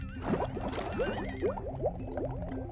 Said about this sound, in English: tank aerator just went into overdrive